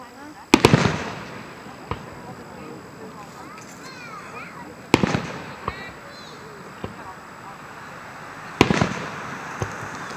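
Fireworks bursting at night in Bedford, Virginia, with three loud sharp explosions followed by crackling tails and a few fainter pops between them. Voices talk quietly underneath.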